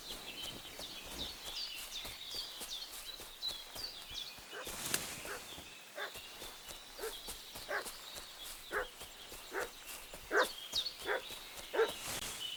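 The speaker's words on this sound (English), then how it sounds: "What's that dog making such a fuss about?" A dog barks repeatedly in a village setting from the game Kingdom Come: Deliverance II, sharp yelps spaced irregularly at moderate distance over faint outdoor ambience and birdsong.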